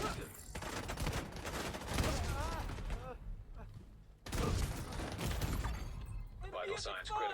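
Rapid gunfire in The Division 2 video game, dense bursts of shots and shattering impacts in two long volleys with a short lull between, under a player talking.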